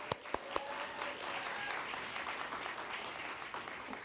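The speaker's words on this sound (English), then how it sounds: "let's give her another round of applause" Audience applause for an award recipient at a women's summit awards luncheon, a steady wash of clapping throughout with a few sharper claps near the start.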